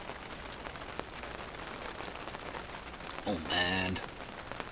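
Rain patters steadily on a nearby surface at a bushcraft camp with a tipi, a dense wash of drops, while a voice speaks briefly over it and a louder burst of noise flares near the end.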